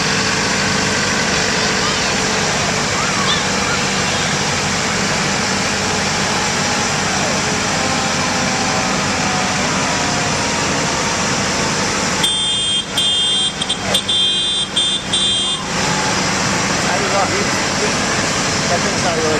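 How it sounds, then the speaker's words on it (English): A small tractor engine runs steadily at a county fair parade, a continuous low idling drone under background noise with a brief electronic buzzing tone partway through. "I can hear the engine on that one running too"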